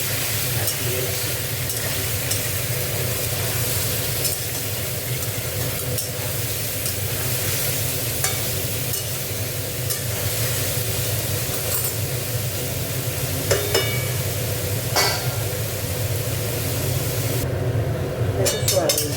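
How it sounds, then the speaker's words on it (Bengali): Squeezed, drained soybean chunks fry in a pan with oil and are stirred. A dense, constant sizzle runs throughout, broken by scraping and clacking from the spoon, with no clear talk. "সয়াবিনগুলো একটু ভেজে নেব"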